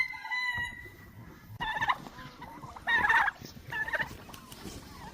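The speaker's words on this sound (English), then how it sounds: "The goose is already peeking out, wondering why it hasn't been let out." A goose on a rural homestead in the woods calls with honking, gobbling cries in three or four bursts over steady outdoor background, moderately near.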